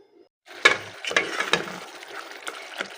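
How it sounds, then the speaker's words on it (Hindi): Masala for shaljam bhujia (turnip) frying in a pan, with an irregular crackle and scraping stir at close range after a brief quiet start, sharp sizzling spits scattered through. "मसाला यहाँ भुन रहा है"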